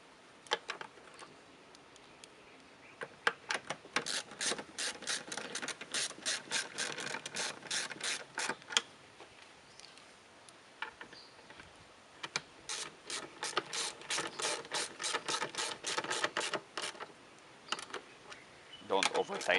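Ratchet wrench snugging down the small bolts on a Subaru XV tail light, rapid close clicking in two long bursts separated by a short pause, with faint talk underneath.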